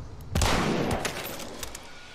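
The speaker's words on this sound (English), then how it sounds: "I can see a zombie from here. I'm gonna shoot it, okay?" A single loud gunshot aimed at a zombie in the game Hunt: Showdown cracks close by, then rings out in a fading echo.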